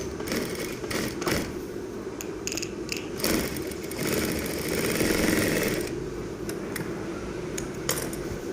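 A sewing machine stitches fabric in quick uneven bursts with rattling, clicking mechanism noise, close by and loud, broken by short pauses and scraping handling sounds.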